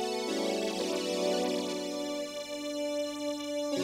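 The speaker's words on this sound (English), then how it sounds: "We've got a horn on its own." A pipe organ's horn stop sounds alone, sustained reed-like chords holding steady with a few note changes, fairly loud and continuous throughout.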